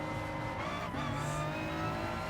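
A race car engine in a racing video game, at the Catalunya circuit, roars steadily at high revs, close and continuous, with a brief tire squeal partway through.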